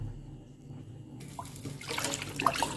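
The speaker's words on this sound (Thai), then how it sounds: "หนังหมูที่เราต้มแล้วเราก็จะเอามาล้างน้ำเย็นนะคะล้างน้ำเย็น" Boiled pork skin being rinsed in cold water while making pork cracklings: quiet at first, then running water swells into steady splashing and trickling with small drips, close by and without talk.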